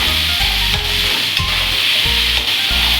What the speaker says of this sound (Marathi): आता हे मीठ देखील आपण यामध्ये व्यवस्थित मिक्स करूयात